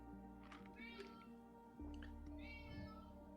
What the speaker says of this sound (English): That sounds like a cat from Earth.